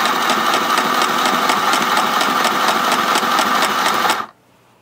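A Lil Sew & Sew LSS202 mini sewing machine runs in a loud, close, rapid rhythmic clatter for about four seconds, then stops abruptly.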